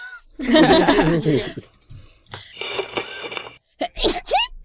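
A loud, sharp sneeze up close, followed by people talking and laughing.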